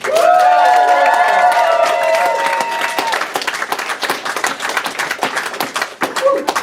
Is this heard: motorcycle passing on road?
no